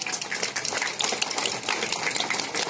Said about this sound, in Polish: prosimy o brawa dla nich